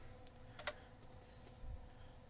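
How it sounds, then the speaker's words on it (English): Keys on a Compaq Portable computer keyboard click faintly, with a few sparse taps in the first second over a quiet background hum and no voices. "So yeah, keyboard's working."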